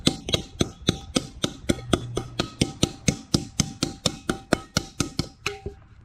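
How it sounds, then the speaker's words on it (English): Around twenty sharp, ringing taps of a non-marring hammer tapping a dent out of a metal pot, struck at a steady quick rhythm, close up and alone. "see if that non-marring hammer will take care of that"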